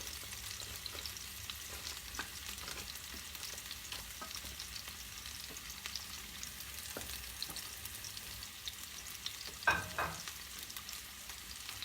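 Paprika fries in a pan of oil with a soft, steady sizzle and crackle. It stays quiet and close throughout, with occasional small pops and one slightly louder spatter near the end.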